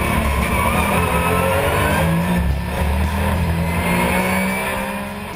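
Porsche GT3 race car at full throttle, a loud, close engine roar with rising revs and strong harmonic whine, held steadily for several seconds before easing slightly at the end, alone without talk.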